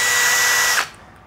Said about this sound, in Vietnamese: Skill 12V, động cơ không chổi than.